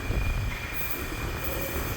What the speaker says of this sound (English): Is another train?